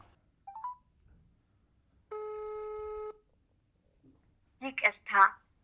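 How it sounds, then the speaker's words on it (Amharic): A phone call being placed on a mobile handset: a short two-note dial chirp, then a steady one-second tone like a ringback or call signal, with faint speech bursts close by afterward. "እስኪ ደውሉለት በእርሶ ስልክ።"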